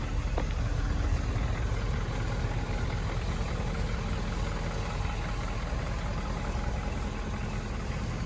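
A 2019 Ford F-250 Super Duty XL 4x4 with a 6.7 liter Powerstroke engine idles. The rumble is low, steady and continuous, close and moderately loud, with no talking.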